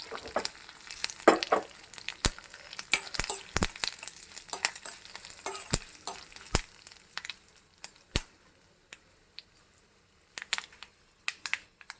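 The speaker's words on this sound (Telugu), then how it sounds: "మనం ఇప్పుడు పోపు వేసుకుందాం" Spices for tempering crackle and sizzle in hot oil for a mint-coconut chutney, sharp popping bursts scattered irregularly over a faint hiss, close and distinct, with no voices.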